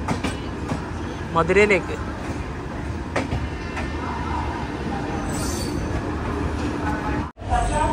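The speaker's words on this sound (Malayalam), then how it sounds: "ചെന്നൈ എഗ്മോർ മധുരൈ വൈഗ എക്സ്പ്രസ് ഇതിപ്പോൾ പോകും ഇവിടുന്ന്" The Chennai Egmore–Madurai Vaigai Express pulls out of a station with a low rolling rumble, brief wheel squeals and clatter. People talk over the train noise, and a sharp cutout near the end breaks the sound.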